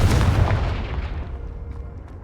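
A Confringo fire spell explodes in a video game with one heavy, booming blast that rolls out and decays steadily over about two seconds.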